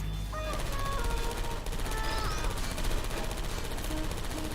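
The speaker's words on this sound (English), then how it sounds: "I heard gunfire!" Rapid bursts of gunfire crackle amid a dense, noisy mix of game sound effects and electronic tones in the game Portal 2.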